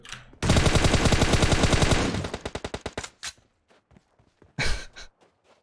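Automatic gunfire in PUBG Mobile on the Miramar map, a sustained loud burst followed by a slowing string of separate shots, then a brief later burst and scattered softer clicks and steps.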